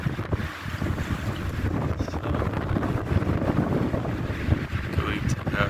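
Strong, steady wind buffets the microphone outdoors near a 30-year-old pine tree, a continuous low roar with gusty surges throughout and no clear voices.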